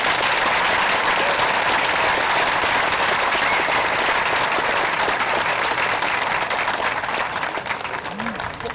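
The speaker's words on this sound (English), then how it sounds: "a nice round of applause once again, please" Sustained, loud crowd applause at a memorial service, a thick wash of many hands clapping that holds evenly for nearly nine seconds before easing slightly, with some faint crowd voices mixed in.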